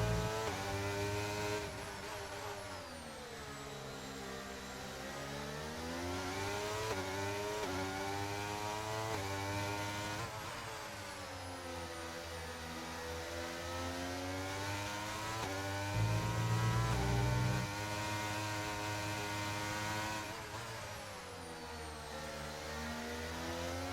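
Several racing car engines in a video game race at Qatar's circuit, loud and continuous with rising and falling revs as cars jostle for position, gear changes audible, with no talk over them.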